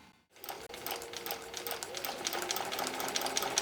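Sewing machine stitching two fabric strips right sides together with a 1/4 inch seam for a mini mosaic quilt, running steadily and close up after a brief silent start.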